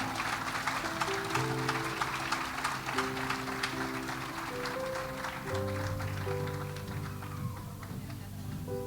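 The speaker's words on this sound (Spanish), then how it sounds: "Denle un aplauso a papá." A church congregation applauding during a Spanish-language sermon, dense continuous clapping held at a steady level under sustained organ or keyboard chords, with no talk over it.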